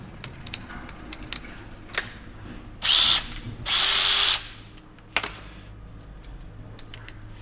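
An SDS Plus hammer drill bores into concrete block, hammering loudly in two short bursts, the second longer, amid quiet clicks and light handling noises.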